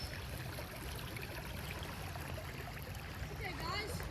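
Steady rushing and trickling of creek water after a flood, constant and moderately loud, with a brief voice near the end.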